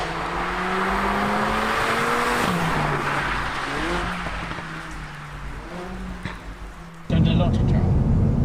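A Mercedes A45 AMG with a 2-litre engine revs up through several shifts, its exhaust note climbing and dropping with each gear change and crackling pops. A louder roaring burst comes at the end, with people talking over it.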